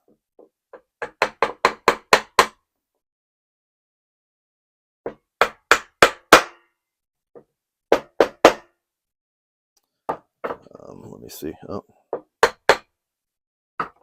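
A hammer taps a chisel into wood, striking in quick clusters of sharp knocks with pauses between, close and loud, with a brief spoken remark partway through.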